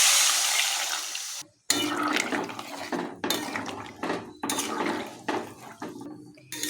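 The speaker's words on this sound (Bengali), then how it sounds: "আমি এখন নিজে জল দিয়ে দিচ্ছি।" Water poured into a pot of fried spices and vegetables: close, rushing splashes in several bursts with brief pauses, mixed with light clatter of the pot.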